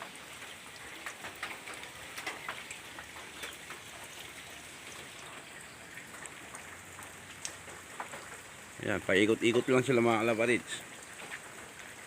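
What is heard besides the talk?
rain falling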